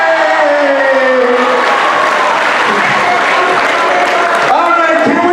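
Applause fills a school recognition assembly at Winslow High School, a dense, loud wash of clapping that runs steadily throughout, with some cheering and voices mixed in.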